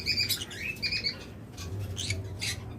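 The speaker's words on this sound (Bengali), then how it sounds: "সান কোনোর পাখি" Sun conures at a bird seller's chirp and squawk in shrill, repeated bursts over a steady low background hum, several calls overlapping at close range with no voices.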